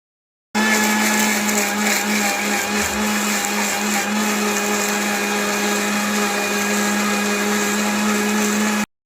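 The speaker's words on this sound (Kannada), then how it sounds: "ಇದನ್ನೀಗ ಚೆನ್ನಾಗಿ ಗ್ರೈಂಡ್ ಮಾಡ್ಕೊಳ್ತಿದ್ದೇನೆ" A kitchen mixer grinder whirs at full speed as it grinds garlic, ginger and water into a masala paste. The loud, steady motor whine starts abruptly, runs unbroken for about eight seconds, then cuts off.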